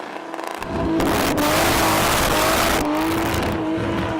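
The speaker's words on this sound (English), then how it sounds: "It's a really interesting note from this car, from Harry Seaman" A burnout car's engine roars and revs hard and continuously at close range at the Red CentreNATS event in Australia, with a brief rise and dip in pitch as the throttle is worked, heard over crowd and ambient noise.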